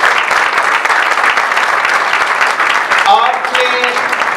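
Loud, steady clapping fills the hall as a church congregation applauds during a Sunday Urdu sermon, and a voice comes in near the end over the tail of it.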